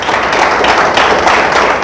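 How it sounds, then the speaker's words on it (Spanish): A church congregation applauds, a dense, steady wash of many hands clapping at once, loud and continuous for a couple of seconds with no voices on top. "Le damos un aplauso al Señor."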